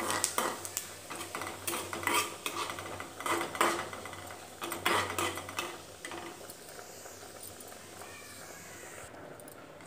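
Fennel seeds roast in a little oil in a kadai. A ladle scrapes and clinks in quick, uneven bursts of metal-on-metal strokes, then the stirring stops and the sound fades to quiet background hum.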